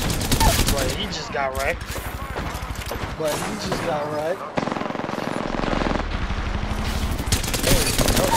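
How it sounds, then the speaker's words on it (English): Havoc rifle gunfire in Apex Legends, fast automatic bursts fired at long range that rattle loudly beneath someone talking over the action. "I don't like shooting the Havoc from a distance like this, because, you know, that recoil is something dirty."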